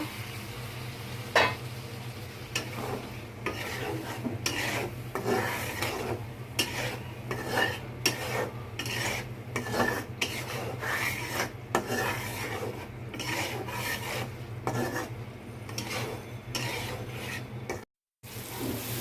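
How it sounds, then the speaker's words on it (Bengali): Eggs sauté with spice paste in a pan for an egg and potato dal, heard as a continuous close rasp of rhythmic scraping and stirring with a low steady hum beneath, no voices. "এখন আমি ডিমগুলো দিয়ে দিব। ডিমগুলো একটু সামান্য কষিয়ে নিব।"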